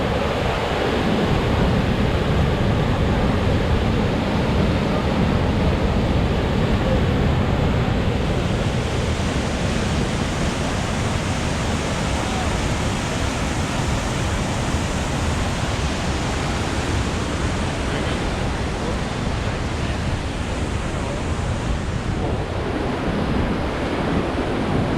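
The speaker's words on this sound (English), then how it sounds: "Falls coming down there." A steady roar of St. Mary Falls in Glacier National Park, Montana, glacier-fed water falling, broad and constant with wind buffeting the microphone, no voices.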